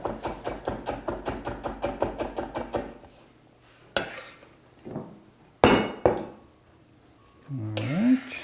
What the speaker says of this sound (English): we're going to cut some ginger. It's important to cut across the grain